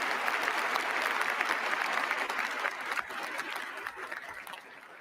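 Sustained applause from a political audience fills the hall, steady and dense, thinning slightly toward the end.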